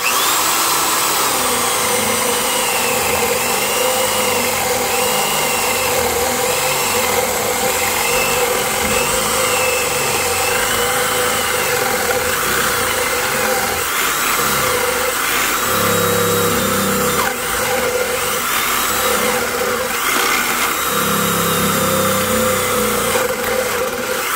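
A Milwaukee 0102 1/4-inch power drill whines steadily and loudly throughout, its motor pitch shifting slightly as the spade bit bores through wood.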